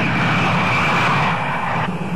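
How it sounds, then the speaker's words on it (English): Eight turbojets of a Northrop YB-49 flying wing at full throttle during takeoff, a loud, steady roaring rush with a sustained whine, heard alone. "Throttles for the eight turbojets are open."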